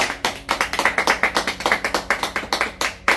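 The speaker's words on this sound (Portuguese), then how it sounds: "uma salva de palmas para eles." Brisk, rhythmic clapping from a small group at a home surprise gathering, sharp claps falling in a steady, slightly uneven beat, close and fairly loud with no talking.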